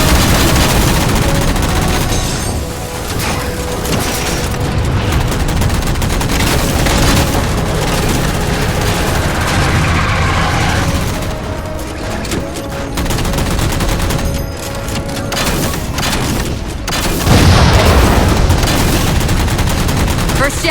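Sustained bursts of automatic gunfire and booming explosions in Halo 4 as jammers are shot down, loud and continuous with brief lulls and a voice speaking briefly over the combat.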